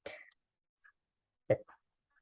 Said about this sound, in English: So you might notice that I'm coughing a lot.